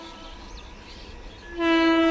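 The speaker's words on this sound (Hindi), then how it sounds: "आ रही है Howrah Rajdhani express Agra cantt MEMU को ओवरटेक करने" The Howrah Rajdhani Express overtaking the Agra Cantt MEMU: faint rail rumble at first, then a loud, sustained train horn blasts in near the end and holds steady.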